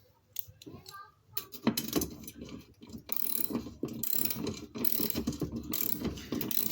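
A bolt being tightened hard against a plastic washer on a bed base, giving repeated close ratcheting clicks and mechanical creaks in short bursts that run through most of the stretch.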